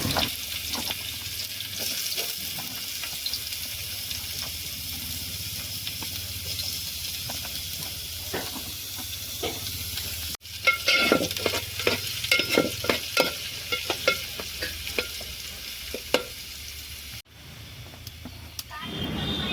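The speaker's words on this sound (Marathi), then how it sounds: "आता कांदो टाकून घेऊया मस्तपैकी परतून घेऊया बघून कांद्या कांद्याचा आवाज पण ऐका तुम्ही कसं येतात" Onions and fish, bangda and tarli mackerel, frying in a pan over a village wood-fired stove, a constant sizzle with stirring scrapes that becomes louder and more crackly midway, with a voice talking over parts of it.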